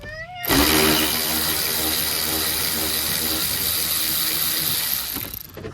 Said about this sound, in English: there's this screw. And you just need to back that one out as well.